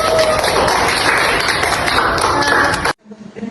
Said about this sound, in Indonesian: Beri tepuk tangan untuk kalian semua.